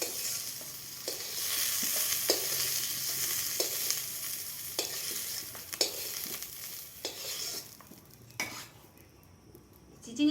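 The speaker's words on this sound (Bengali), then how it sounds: "এইভাবে তেলে ভেজে নিতে হবে।" Sliced snake gourd (chichinga) fries in hot oil with a steady, broadband sizzle, punctuated by a series of sharp scrapes and clinks as a utensil stirs it in the pan, the sizzle thinning near the end.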